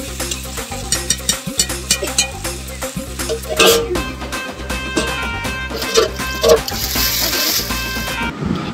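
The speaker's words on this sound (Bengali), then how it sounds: "টক দইটা দেওয়ার আগে একটু ফেটিয়ে নেব" Sour yogurt is whisked in a bowl before going into a pointed gourd curry, giving quick rhythmic clicking and scraping strokes, close and fairly loud, in irregular bursts for several seconds.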